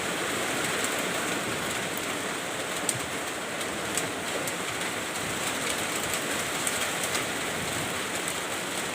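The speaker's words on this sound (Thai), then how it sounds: "มันจะมีแต่ เสียงฟ้าร้องกับเสียงฝนอย่างเดียวครับ" Steady, dense heavy rainfall with large drops and some wind, hissing continuously, with occasional faint drips or ticks standing out; no voices.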